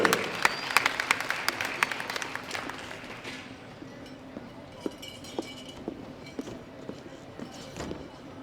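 A crowd at a powerlifting championship applauds the winners, a dense burst of clapping that gradually thins to scattered claps, with a voice speaking over it.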